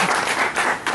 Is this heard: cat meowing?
no